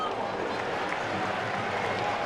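Football stadium crowd at an AZ Alkmaar versus Willem II match, a steady broad murmur of just under 8,500 spectators with a commentator talking over it.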